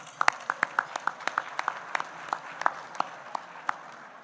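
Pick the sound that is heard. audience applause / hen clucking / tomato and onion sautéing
audience applause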